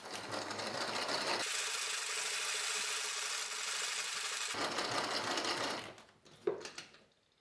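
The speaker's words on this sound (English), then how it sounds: "Then beat the egg yolks with sugar until they turn into a smooth," Electric mixer beating egg yolks with sugar for a baked rice pudding, a steady close whirring hum that runs in two long stretches before stopping with a few clinks.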